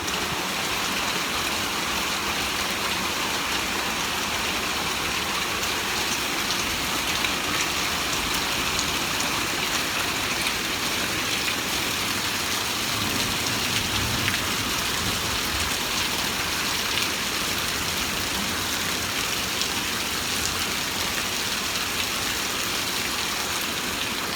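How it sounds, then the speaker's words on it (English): Heavy rain pouring down during a thunderstorm, a dense, steady hiss of drops on surfaces that continues unbroken and loud throughout, with no voices heard. "we've been having a lot of lightning and thunder, so I wanted to share that with you"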